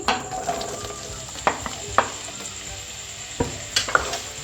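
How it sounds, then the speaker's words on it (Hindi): Pieces of bottle gourd sizzling and frying in hot oil, with a steady crackling hiss and occasional clinks and scrapes of stirring in the pan. "उस तरीके से मैं इसको थोड़ा सा ऑयल में फ्राई करूँगी, यानी कि भूनूंगी"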